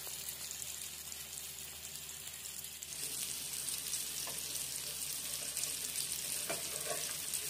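Surmai (kingfish) coated in rava shallow-frying in a pan, a steady close sizzle that grows louder and brighter partway through, with a few faint clinks over the crackling.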